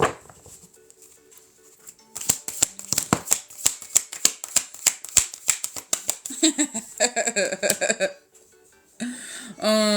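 Playing cards are shuffled in a rapid burst of crisp riffling snaps, followed by softer handling sounds and a brief pause, close by.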